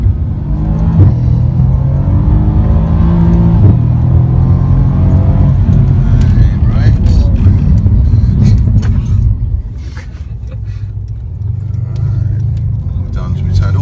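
A Mercedes-AMG car with 476 brake horsepower accelerates hard: a loud, close engine roar rises, then eases, while a person talks over it.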